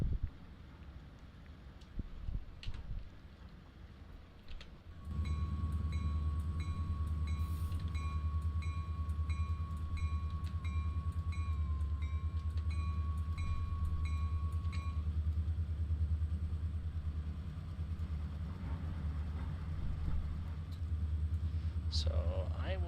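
A train runs through a railroad operating game set on the Carrabassett Valley Railroad, a deep steady engine rumble with a sustained whistle-like tone and rhythmic clicks, loud and continuous through most of the stretch.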